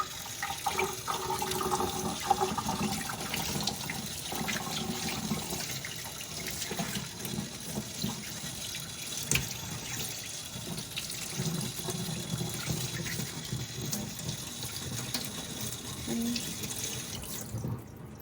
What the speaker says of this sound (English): just with some warm water here to rinse it off